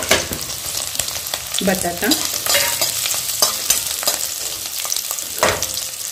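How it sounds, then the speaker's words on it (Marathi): Potato, carrot and sweet corn frying with onion in a pan, a steady close sizzle with stirring scrapes throughout, no voices. "बटाट्याबरोबर गाजर पण भाजा आणि स्वीट कॉर्न"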